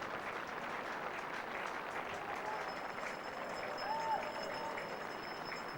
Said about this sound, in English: Applause for the 150.